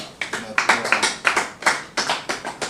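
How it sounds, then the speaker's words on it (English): Applause for the winner at a Scrabble tournament final, a small group clapping briskly and steadily for a few seconds, close and fairly loud. "A round of applause for Master Enoch."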